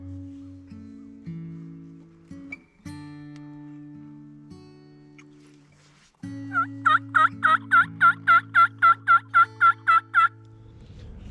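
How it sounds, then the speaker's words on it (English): Wild turkey toms gobble in a field during spring turkey season in Maine, a fast burst of about a dozen loud, evenly spaced gobbling pulses, close and clear, heard after a quieter stretch of low background hum. "we probably have, 4 or 5 toms gobbling around us"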